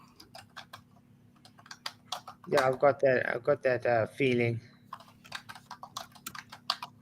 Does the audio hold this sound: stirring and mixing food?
no